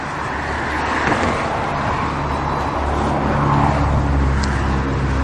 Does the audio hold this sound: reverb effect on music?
no